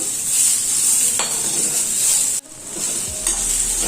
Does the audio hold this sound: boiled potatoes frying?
yes